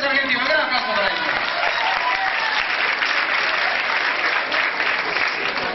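Dense, continuous audience applause for a tango dancing couple at a competition, loud and steady throughout, with some crowd voices mixed in at the start.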